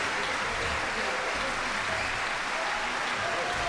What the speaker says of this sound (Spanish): Fuerte, fuerte, fuerte el aplauso.